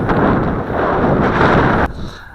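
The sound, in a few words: strong wind blowing across the microphone in a field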